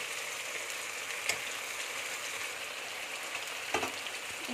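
Spices frying in a pan for an Assamese chicken and bamboo shoot dish give a steady, close sizzle with a couple of brief clinks, and no voice is heard.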